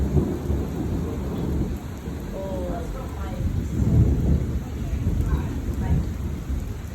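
A huge thunderstorm: steady heavy rain hisses throughout while deep rumbling thunder rolls and swells in the middle, close and loud.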